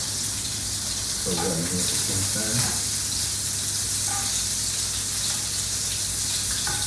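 Meatballs browning in a Le Creuset pan, a steady close sizzle with occasional spits and stirring clatter, running under a person talking.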